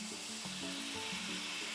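Wine poured into a hot pan of cooking artichokes, a steady close sizzle and spatter with faint clinks of a utensil, no voices.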